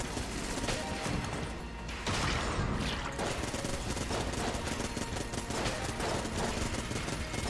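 Rapid Vulcan Cannon fire from the video game Enter the Gungeon, a dense continuous stream of shots with clattering impacts, loud and steady for several seconds, with no talking over it.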